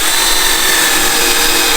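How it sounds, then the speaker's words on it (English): A power drill pre-drills a hole in a part being fitted with a bushing on a D3 dozer, giving a steady, loud, close whir with no pauses. "what he's doing is he is pre-drilling a hole."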